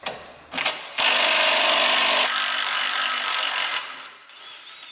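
A power tool whirs loudly and steadily for a few seconds, changing pitch partway through, with brief mechanical clicks before and after.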